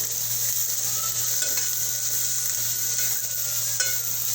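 Onion sizzles steadily in a pan while being sautéed for a Malvani-style mushroom dish, a constant close frying hiss with occasional faint stirring scrapes and a low steady hum beneath, no voices.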